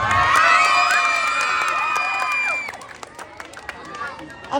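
Pageant audience at a costume competition cheering loudly, with high shrieks, whoops and shouting from a packed crowd that peaks early and then drops to scattered yells and claps.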